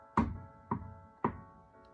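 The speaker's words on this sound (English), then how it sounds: "He knocked on the door." Three firm knocks on a wooden door, evenly spaced and close, each a dull thud followed by a brief ring before the next.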